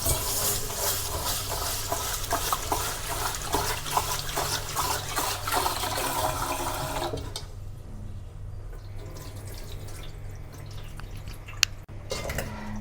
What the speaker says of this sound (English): Rinse the rice several times with water.